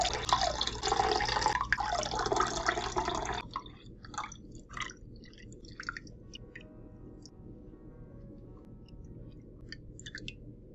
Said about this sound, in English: So we are just going to squeeze the juice, 3 cups of the fresh lemon juice.